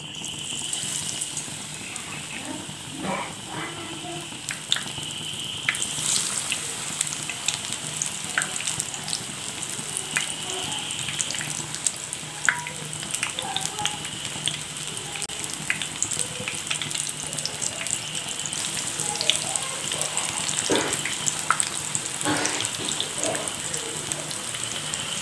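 Okra stuffed with egg and dipped in gram flour batter frying in hot oil, a continuous dense crackling sizzle with scattered sharper pops, close and steady throughout, no voices.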